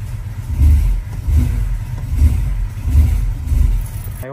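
Honda Civic engine rough and struggling at idle, a low uneven rumble that rises and dips in slow surges as though close to stalling, loud and close with no talk.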